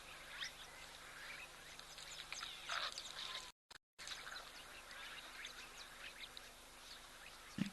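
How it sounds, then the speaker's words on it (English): Many birds call at a waterhole, a steady distant chorus of chirps, tweets and quacking ducks layered over low ambient hum, faint and continuous, with a brief dropout midway and no talk. "Interesting to see such a massive amount of birds around"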